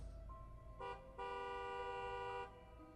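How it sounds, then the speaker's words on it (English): A car horn sounds in the evening: one short honk, then a longer sustained blast of over a second, clear and fairly close against a low rumbling background. "It wasn't until later in the evening when I heard a car horn that I got up."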